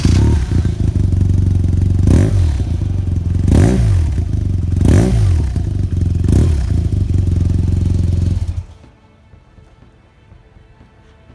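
A 2011 BMW R1200GS Triple Black with an Akrapovic exhaust idles with a loud, close, lumpy rumble. Four sharp throttle blips come at steady intervals before the engine cuts off, leaving near silence.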